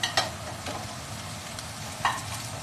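Steak sizzling in a hot pan, a soft steady fry with a few brief crackling bursts and light clinks, no talking.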